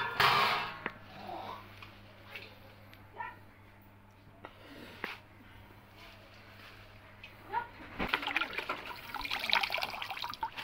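Mustard greens are rinsed and swished in water, with soft splashing and trickling nearby, faint at first and growing busier and louder toward the end, with some background noise underneath.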